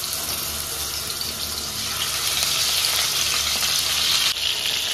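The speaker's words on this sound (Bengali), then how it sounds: "মাছটা এরকম আস্তে আস্তে ভাজতে হবে।" Rohu fish frying slowly in hot mustard oil in a pan, a loud continuous sizzle and crackle held close with no talking.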